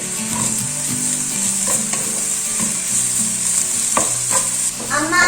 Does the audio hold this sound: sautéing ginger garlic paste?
yes